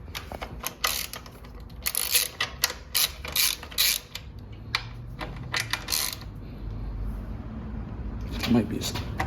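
Ratchet wrench with a 12mm socket loosening bolts on the stock tail section of a 2021-2023 Honda CBR/CB 650R, bursts of rapid clicking close up, separated by pauses and light handling noises.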